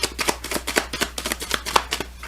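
A tarot deck is shuffled in quick riffling bursts, a dense run of crisp card flutters and slaps close up, with no voices over it.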